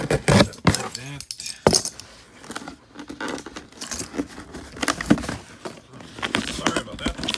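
Metal keys jangle and clink close by while an item is unpacked from a large shipping box, mixed in with rustling and a person talking.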